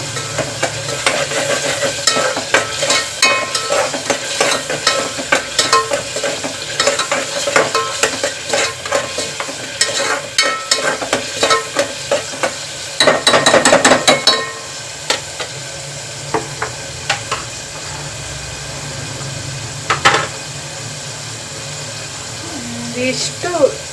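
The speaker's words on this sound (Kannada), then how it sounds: "ಇದು ಹಸಿ ಹಸಿ ವಾಸನೆ ಹೋಗೋವರೆಗೂ ಕರೆಕ್ಟಾಗಿ ಫ್ರೈ ಮಾಡ್ಕೋಬೇಕು" Frying and stirring in a pan while cooking palak palav, a continuous sizzle with frequent scraping and clattering stirs close up, a brief louder burst midway, and a voice talking over parts of it.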